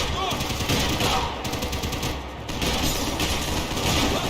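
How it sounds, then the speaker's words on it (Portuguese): A gunfire exchange in the Max Payne 3 video game keeps up dense, loud rattling bursts of automatic fire with mechanical clatter, easing briefly in the middle before resuming. "trocação de tiro aqui"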